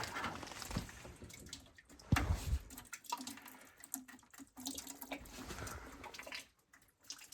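Water trickles and drains from an opened pipe valve in a cold building before a deep freeze, faint and uneven with a few soft knocks and splashes.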